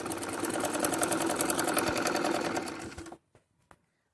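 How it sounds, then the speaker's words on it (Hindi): Electric sewing machine stitching salwar fabric runs in a loud, steady, rapid needle rhythm for about three seconds, then stops abruptly, leaving only a couple of faint clicks and knocks. "इन्हें इस तरीके से सिल देंगे।"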